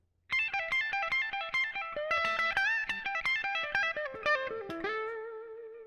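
Distorted electric guitar plays fast, bright pentatonic runs, notes picked in quick rhythmic bursts before settling onto a held, fading final note.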